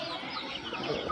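Sonali native chickens cluck close by, a short burst of soft clucking calls, alone.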